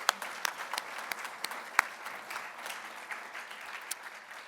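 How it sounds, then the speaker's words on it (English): A gala audience applauding together, dense steady clapping from a large room with a few sharper individual claps standing out, no talk over it. "Let's give ourselves a round of applause for that."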